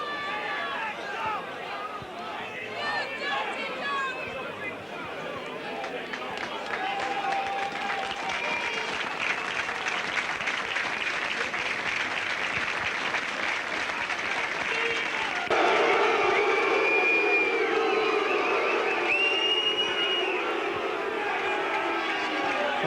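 Rugby league crowd at a Salford match roars and shouts toward the referee, a broad swelling din of many voices that grows louder and denser partway through, with a commentator talking over it.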